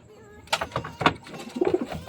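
Racing pigeons cooing inside a training box before a north race training release, with several soft, close coos and murmurs in short bursts and no talking.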